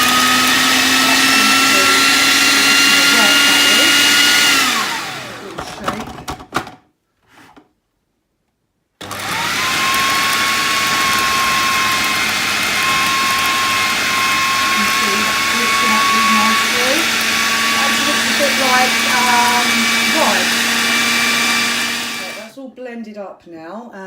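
An electric kitchen blender whirs loudly and steadily as it purees food, stops briefly for a short silent gap, then runs again at a high sustained pitch before cutting off.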